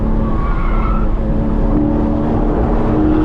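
A race car runs over a bumpy section of the Houston race track, loud close engine drone with tire scrub and a squealing tone, continuous throughout.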